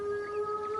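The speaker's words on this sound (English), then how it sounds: "That is a wolf." A wolf howls in Assassin's Creed Valhalla, a steady sustained tonal cry with clear harmonics holding level throughout, with no talk over it.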